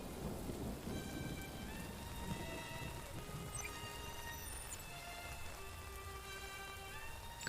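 An animated show's rainstorm pours steadily with heavy rain hiss and low thunder rumbling throughout, while faint musical tones ring over the downpour.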